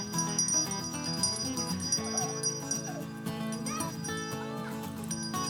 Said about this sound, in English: Let's bring the goats over.